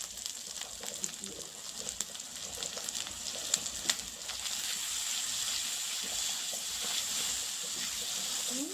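Ground spice paste fries in oil with a steady, close sizzle, joined early by occasional scraping stirs, then settles into a constant hiss.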